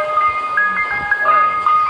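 An ice cream truck plays its chiming jingle, a bright repeating melody that comes through clearly over street noise, with people talking close by.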